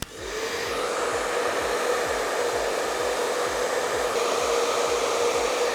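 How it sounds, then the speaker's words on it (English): A hair dryer blows steadily and loudly for the whole stretch while shoulder-length layered hair is dried in the palm, with a continuous whooshing hum and no talking. "then you blow dry in your hand palm"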